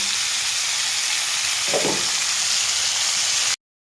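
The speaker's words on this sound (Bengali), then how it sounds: "পটলটাকে আমি ভালোভাবে লালচে করে ভেজে নেব" Pieces of pointed gourd (potol) fry in oil in a pan, giving a steady, close sizzle with a brief stirring rustle midway before cutting off.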